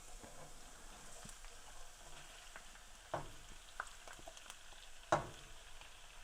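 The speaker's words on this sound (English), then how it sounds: "we start to fry a little bit of this" Garlic, onion and meat fry in a pan for arancini rice balls with a steady soft sizzle. A few sharper clinks and scrapes of stirring break in now and then, close and fairly quiet, with no talking.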